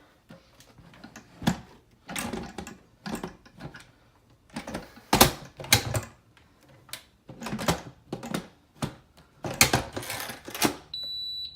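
A series of sharp clicks and clunks as a Power Pressure XL pressure cooker lid is handled and locked, followed by a brief electronic beep near the end.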